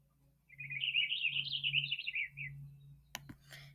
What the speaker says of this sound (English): Purple finches, they're not too common, but yeah, just wanted to add these in.